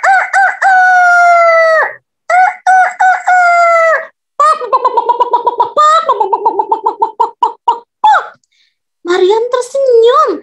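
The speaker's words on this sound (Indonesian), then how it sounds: "Di pagi hari, si jago pun berkokok menyapa teman-temannya." A rooster crows loudly and close by, repeating its call several times with short breaks between bursts. The crows rise and fall in pitch, and the last ones come in quicker, choppier runs.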